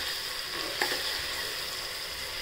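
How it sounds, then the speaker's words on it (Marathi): A crushed green chili and garlic paste fries in oil for a spinach dal, making a constant even sizzle with a single faint utensil tap near the start. "हिरवी मिरची, लसूणचा ठेचा हा तेलात परतून घेणे"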